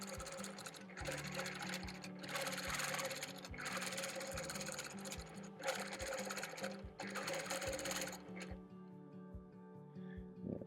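Sewing machine running steadily while free-motion quilting counterclockwise swirls on an orange peel quilt, a rapid close needle rhythm in bursts that stops near the end.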